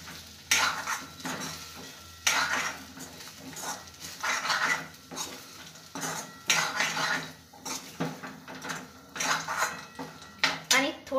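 A spoon stirs sabudana (sago) in a pan for sabudana usal, making repeated metallic scrapes and clinks in an irregular rhythm over a light sizzle, close and prominent.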